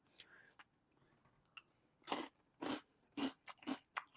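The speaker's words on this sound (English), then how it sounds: "Yeah, that crunch is super solid." Crunchy cereal from a bowl being bitten and chewed in a taste comparison, with several loud, close crunches in quick succession after a few softer early bites.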